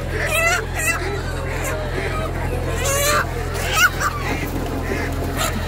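Ducks and other fowl at a weekly poultry market in Saudi Arabia give repeated honking, quacking calls over a steady crowd hubbub, with people talking nearby throughout.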